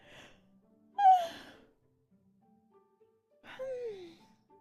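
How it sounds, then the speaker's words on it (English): A woman yawning twice, long breathy yawns with a voiced, sliding pitch near the microphone, separated by quiet. "Why do I keep yawning?"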